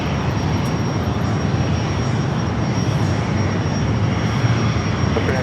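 A Boeing 737 MAX 9 jet airliner at San Diego airport gives a steady, loud, broadband engine roar that holds evenly throughout, with no voices.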